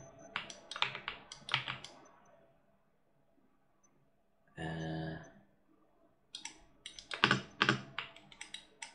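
Computer keyboard presses and mouse clicks come in short clustered bursts, close and crisp, separated by quiet gaps, with a brief low buzzing tone in the middle.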